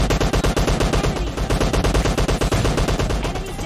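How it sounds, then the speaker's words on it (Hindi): Rapid, loud gunfire from an AWM sniper rifle in PUBG Lite, a dense string of close shots cracking in quick succession for several seconds with no talking over it. "बस स्नाइपर ही शॉट यूज कर रहा हूँ"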